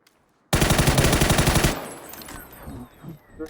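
Close, loud burst of automatic gunfire in PUBG, a rapid run of about fifteen shots in roughly a second, cutting off abruptly and leaving fainter background game sounds behind.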